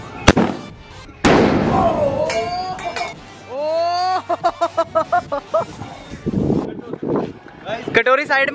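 A Diwali firecracker bomb set off under a small bowl bursts with a sharp loud bang and a metallic clatter, then scattered pops and crackles while people talk and shout nearby.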